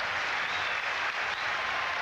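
A baseball stadium crowd at a Devil Rays versus Red Sox game in 2004 applauds and cheers in a steady, loud roar that fills the whole moment, with no break.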